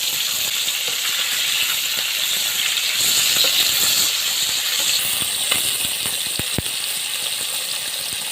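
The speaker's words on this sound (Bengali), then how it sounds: "তেলটা বেশ ভালোই গরম হয়ে গেছে, এখন আমি মাছগুলো ভেজে নেব।" Pangash fish frying in hot oil, giving a steady, loud, bright hiss across the whole stretch with a few sharp crackles and pops near the end and no voices.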